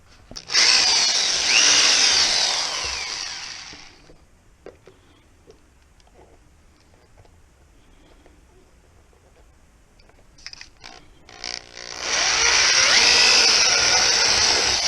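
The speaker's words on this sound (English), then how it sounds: "drill 2 holes, and use the hardware and mount it on the rear fender" A power drill whines loudly for several seconds drilling holes in a Suzuki DRZ400 motorcycle fender, goes quiet amid faint clicks and handling noises, then whirs again at full speed.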